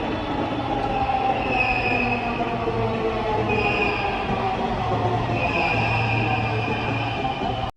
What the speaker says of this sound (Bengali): টিকিট কেটে উপরে যাওয়ার কিছুক্ষণের মধ্যেই ট্রেন চলে আসলো।